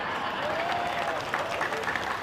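An audience at an Indonesian religious sermon claps at a steady moderate level for a couple of seconds, with a faint voice briefly underneath.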